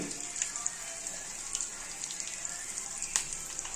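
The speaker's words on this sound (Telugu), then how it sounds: "నూనెలో చక్కగా పచ్చిమిర్చి ఫ్రై అవుతుంది" Steady, soft sizzling of chillies frying in hot oil, with faint crackles and pops scattered throughout; no talking.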